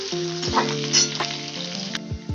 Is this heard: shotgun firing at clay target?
no